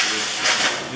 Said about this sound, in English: You have a torch. A really good way to clean grease and oil off of stuff.